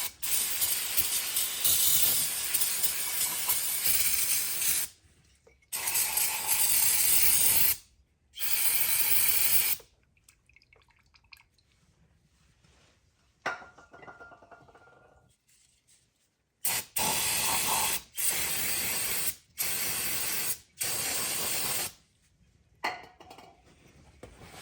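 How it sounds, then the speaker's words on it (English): Brake cleaner sprays onto an engine part of a 2008 Lexus RX-350 with a Toyota 3.5L V6, in loud hissing bursts of several seconds each, separated by pauses and quieter handling noises. "we're just going to clean this off with brake cleaner right now"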